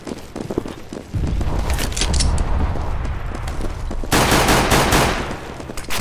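Gunfire in the tactical shooter CS:GO: loud, dense bursts of automatic shots and clattering mechanisms, with a sharper, heavier volley near the end and no talk.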